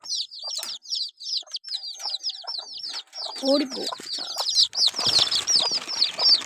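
Hens and their newly hatched chicks clucking and peeping in a farmyard coop, with a steady run of close, high chick cheeps over lower hen clucks and a short burst of wing flapping partway through; a voice speaks briefly.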